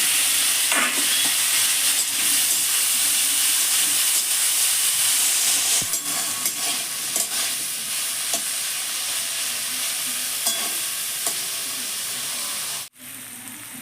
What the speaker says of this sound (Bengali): তেলের মধ্যে গোটা জিরে দিয়ে দেবো, শুকনো লঙ্কা, সিদ্ধ করে রাখা ডুমুর আর আলুগুলোকে দিয়ে দেবো